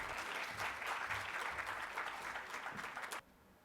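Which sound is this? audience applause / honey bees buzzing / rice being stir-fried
audience applause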